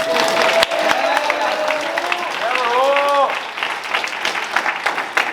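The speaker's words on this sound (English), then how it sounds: "Let's get a round of applause." An audience at a cross country senior night banquet gives a round of applause for a graduating senior, with loud, dense clapping mixed with cheers and crowd voices, thinning and becoming more scattered toward the end.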